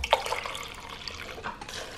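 Beef broth and dry red wine poured into a pressure cooker for a classic pot roast, a steady liquid splash with a brief louder burst near the start, heard close and alone.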